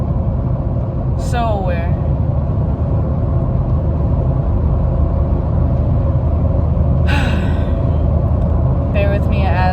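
A car drives along a road, heard from inside as a constant low rumble of road noise. A person talks over it now and then, and brief higher chirps break through.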